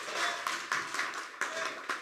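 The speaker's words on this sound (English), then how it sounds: "so give everyone a round of applause." A crowd claps at a packed town hall meeting, dense applause that swells and dips with a few sharper bursts, steady and fairly loud throughout.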